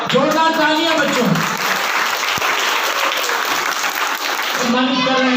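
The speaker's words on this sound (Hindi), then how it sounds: "बच्चों तालियां जोरदार हो जाएंगे।" Children at a patriotic gathering in Chhaprauli break into loud, dense applause that runs steadily throughout, with voices briefly audible near the start and end.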